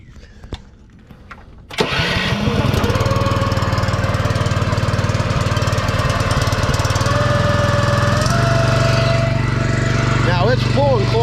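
A Zeta 40P machine fires up with a sudden roar and settles into a loud, steady engine drone that runs close and unbroken, with a faint shift in tone near the end.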